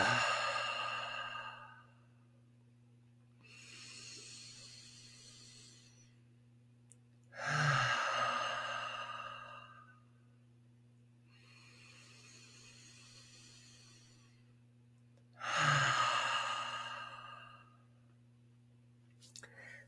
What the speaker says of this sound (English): I'm going to start by taking 3 deep breaths in through my nose, out through my mouth.